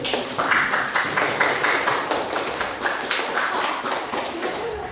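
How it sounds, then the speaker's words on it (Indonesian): An audience claps after a group presentation in a teacher-training class, a steady patter of clapping that continues evenly at moderate loudness throughout. "tepuk tangan untuk kita semuanya."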